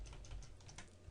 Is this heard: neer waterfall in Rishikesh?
no